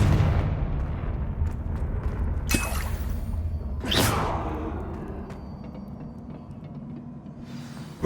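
A Confringo fire spell bursts in Hogwarts Legacy, giving two sharp whooshing blasts about a second and a half apart. They ride over a steady, rumbling game background, and the explosion tails off slowly afterwards.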